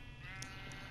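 A Minecraft sheep bleats once, a single quiet, nasal wavering call heard alone.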